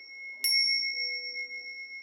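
A single bright bell strike rings out and its clear tone lingers, slowly fading over a quiet background.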